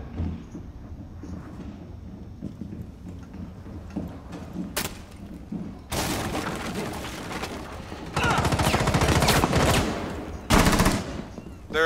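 Gunfire rattles through a Rainbow Six Siege match: sporadic shots early on, then loud sustained automatic bursts in several long volleys, close and dense, with a few sharp cracks between them.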